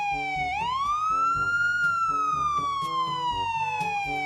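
A blue toy police car wails with a looping electronic siren, its pitch sweeping up and slowly falling in a steady cycle, loud and close over a rhythmic toy melody beneath.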